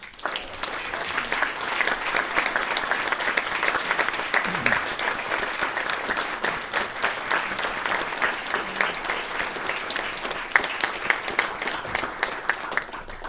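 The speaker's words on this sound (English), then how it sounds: "give a round of applause to the 2023 inaugural members of the Bay Area Hall of Fame." A hall of fame induction crowd gives a sustained round of applause for inaugural inductees, dense clapping continuing steadily and fairly close throughout with a few louder individual claps near the end.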